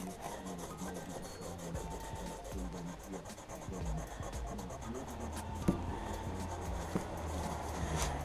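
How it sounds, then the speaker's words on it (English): Rubbing and wiping across a router-carved wooden sign while cleaning it with white spirit after sanding, a steady close scrubbing texture with no talk. "So just clean it off with white spirit"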